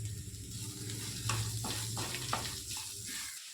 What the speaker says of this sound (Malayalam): കൂടാതെ 1 ടീസ്പൂൺ ഉപ്പും കൂടി ചേർത്ത് കൊടുത്തിട്ട് നമുക്ക് ഈ സവാള നന്നായിട്ട് തന്നെ വഴറ്റിയെടുക്കാം